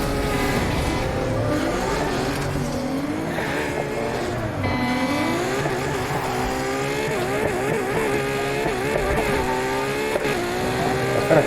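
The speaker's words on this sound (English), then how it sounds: "You hear those turbos?" Dodge Viper fitted with turbos in the racing game Need for Speed Heat, its engine revving and rising through gears with continuous loud whine and roar, occasional tire noise, no talk.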